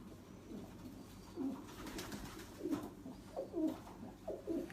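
A pigeon coos softly and faintly several times in a short repeating series over quiet background noise.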